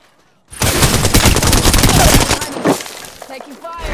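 Dense automatic gunfire from a firefight in the battle royale game Apex Legends, loud and continuous bursts starting abruptly then tapering into scattered shots, with game sounds and a voice heard underneath.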